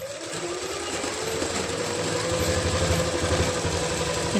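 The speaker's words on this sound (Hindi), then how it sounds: "तो हमें सिलाई यहीं तक ही लगानी है।" Sewing machine stitching a palazzo pant seam, a continuous close motor whir with rapid needle rattle held steady for a few seconds.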